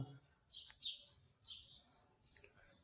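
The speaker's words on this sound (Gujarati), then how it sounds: "અને પક્ષીઓનો અવાજ પણ આવે છે કલરવ કરે છે" Faint, high bird chirps come in short bursts over a quiet background, a few calls spaced a second or so apart.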